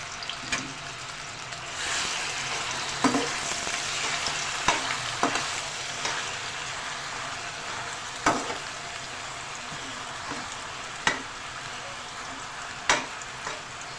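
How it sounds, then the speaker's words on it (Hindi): Chopped onion fries steadily in hot oil for a Pakistani egg and chickpea curry, giving a continuous crackling sizzle punctuated by a few sharper spatters and stirring clinks, with no one speaking. "सबसे पहले से मैं प्याज डाल के बहुत अच्छी तरह हमें प्याज को भूनना है इसके अंदर"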